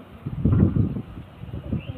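A male pigeon coos in low, throaty bursts, loudest in the middle with a softer call near the end, close by.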